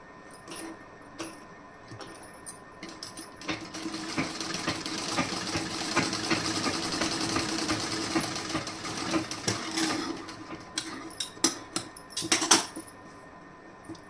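A sewing machine stitches a seam on a plain blouse, running in a steady whirring burst through the middle with faint clicks and handling knocks before and after, moderately quiet and close.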